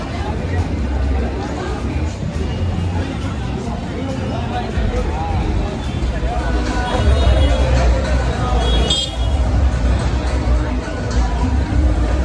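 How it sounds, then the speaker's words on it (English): Crowd chatter on a busy street near Baga beach in Goa on Christmas Eve, a dense steady babble of many voices with traffic rumble underneath, loud and continuous. "Check out the crowd, so nice."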